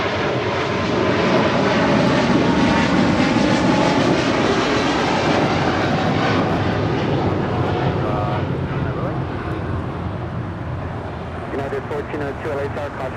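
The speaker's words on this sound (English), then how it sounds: "609 departing to Taipei on a 777 freighter." Boeing 777 freighter operated by EVA Air Cargo departing Los Angeles International Airport toward Taipei, its jet engines a loud, steady broadband roar that fades slightly toward the end, with a voice talking over it.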